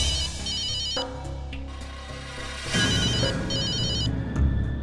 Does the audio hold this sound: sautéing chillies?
no